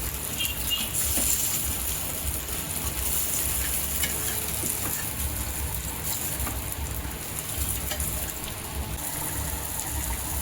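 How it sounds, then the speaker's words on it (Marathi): Coated prawns pan-frying for a Konkani surmai fish fry meal, with a dense, continuous sizzle and spattering crackle that stays loud and close, with no talk over it. "इकडं पण कोटिंग करून घेतला आहोत ती मस्तपैकी भाजून घेऊया फटाफट फटाफट"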